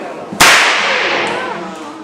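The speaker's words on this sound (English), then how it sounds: "when we crack the whip, it makes a very loud bang" An Australian stock whip, used for mustering sheep, cracks once with a sharp, very loud bang, followed by a ringing echo that fades out slowly.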